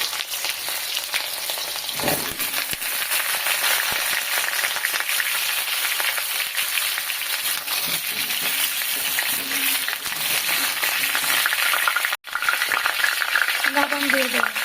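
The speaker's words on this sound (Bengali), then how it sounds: "একে একে আলুগুলো আমি এর মধ্যে দিয়ে দেব, দিয়ে আমি খুব ভালো করে ভেজে নেব।" Potato pieces fry in mustard oil with a loud, continuous hiss and crackle. Spatula stirring scrapes through it now and then, and a faint voice comes in near the end.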